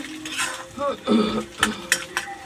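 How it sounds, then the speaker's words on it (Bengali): Malabar spinach seeds being stirred and fried in a pan, with irregular scraping and clinking strokes of a utensil against the pan over a faint frying hiss, close and moderately loud. "একটু ভালো করে ভেজে নেবেন, তাহলে সুন্দর একটা গ্রান আসে।"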